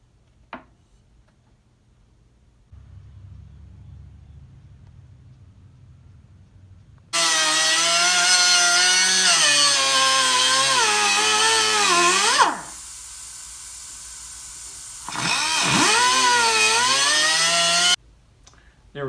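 A power cutting tool grinds through rusted nuts and bolts on an antique Perfection Model 1527 kerosene heater: a quiet motor hum first, then loud, high, screeching cuts in two long bursts separated by a brief lower-pitched pause, with no talking.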